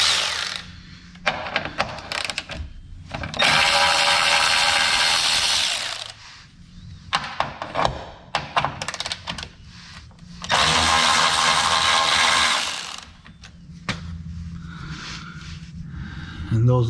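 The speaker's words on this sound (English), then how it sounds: "my next step is removing 2 10mm bolts." Ratchet and power-tool whirring in loud bursts, removing two 10mm bolts from a car bumper during intake manifold gasket work, with quieter mechanical clicks and handling in between.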